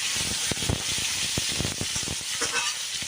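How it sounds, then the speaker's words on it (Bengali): Potatoes frying in a little hot oil with cumin seeds and bay leaf, giving a steady loud sizzle and hiss with scattered crackles and the scrape of stirring. "অল্প একটু তেল দিয়ে জিরা আর তেজপাতা ফোড়ন দিয়ে এবার আলুটা দিয়ে দিলাম"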